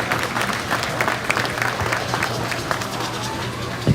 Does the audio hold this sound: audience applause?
yes